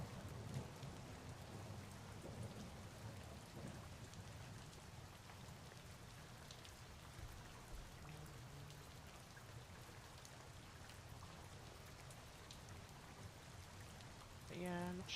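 Steady rain storm ambience with drops pattering on surfaces and a faint distant rumble of thunder, continuous broadband wash throughout, with a brief brighter sound near the end.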